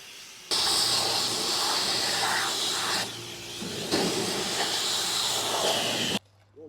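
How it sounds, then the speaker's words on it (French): Loud steady hiss of high-pressure water spray at a car wash as cars are cleaned, broadband rushing noise running almost continuously with a brief dip midway, then cutting off near the end. "petit arrêt au car wash pour nettoyer les voitures"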